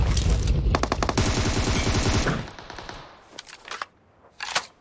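Rapid bursts of automatic gunfire in a shooter video game, loud and dense for the first two seconds, then a few scattered shots and a sharp crack near the end.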